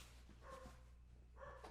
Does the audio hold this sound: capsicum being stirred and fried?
no